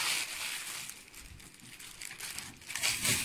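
Plastic bags crinkling and rustling steadily for a few seconds, close up, with bright crackly texture and a louder burst near the end.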